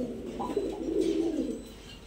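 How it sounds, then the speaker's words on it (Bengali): Giribaz pigeons, Laldom and Kaldom highflyers, give a low, rolling coo that swells and fades over about two seconds, close and clear against a faint background hum, with no voices. "1 পেয়ার লালদম কবুতর আর 1 পেয়ার কালদম কবুতর।"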